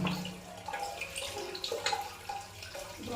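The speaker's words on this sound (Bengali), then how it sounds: "জলটা ভরা হয়ে গেছে" Water runs steadily into a household container, a soft continuous splashing rush with faint drips and clinks, fairly quiet and with no talking.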